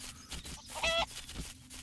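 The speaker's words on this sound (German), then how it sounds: "Huhn, da unten!" Chicken in the video game Craft The World giving a short, quiet burst of clucking amid faint in-game background sounds.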